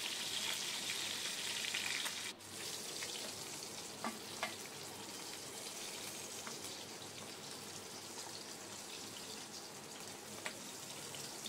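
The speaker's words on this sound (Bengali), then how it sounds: "উল্টে পাল্টে ভালো করে ভেজে নিচ্ছি মাথাগুলো।" Fish heads fry in oil and are turned over in a pan, making a faint, even sizzle with a few soft clicks from the turning.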